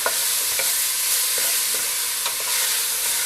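Halved cherry tomatoes and onions sizzle steadily in a hot pan, a close, even hiss with faint stirring taps scattered through it, no talking.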